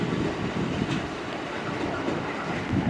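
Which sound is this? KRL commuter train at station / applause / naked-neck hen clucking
KRL commuter train at station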